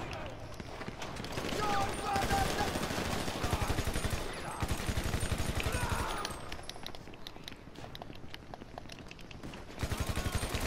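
Shotgun and other gunfire in a GTA Online firefight, dense rapid bursts of shots running through most of the stretch, loud and close, with players talking over it.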